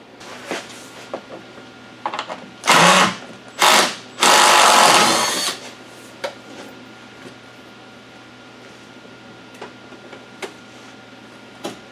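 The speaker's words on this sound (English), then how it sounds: "then we're going to do the front one with the impact" Impact wrench working strut bolts on a Toyota Camry during a strut swap, firing in a few short loud bursts, the longest about a second, between quieter ticks and clicks of tools.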